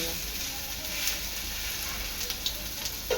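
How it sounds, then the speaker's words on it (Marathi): Fish roe (gaboli) frying in oil in a pan after being turned over: a steady, soft sizzling hiss with small crackles and pops throughout, close but fairly quiet, with no talking. "आपली गाभोली आहे ना दोन्ही बाजूनी चांगली तळून झालेली आहे शिजलेली पण आहे तर हे मी पलटून घेते"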